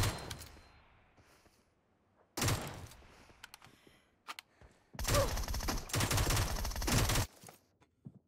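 Gunfire rings out in the mobile battle royale game PUBG Mobile: a single sharp burst and several isolated cracks, then a long sustained volley of rapid shots. Quiet gaps separate the loud bursts.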